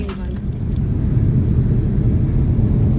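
A passenger airplane speeds along the ground, heard from the back of the cabin as a loud steady roaring rumble that builds slightly and holds, with a voice briefly at the start.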